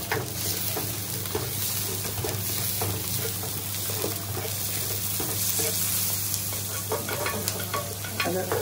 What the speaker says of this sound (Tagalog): iprito daw yung sibuyas